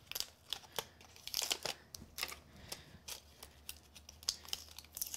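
Tape is peeled off a metal craft die set in a Gemini die-cutting frame. Quiet, close crinkly crackles and sharp little snaps come in irregular bursts.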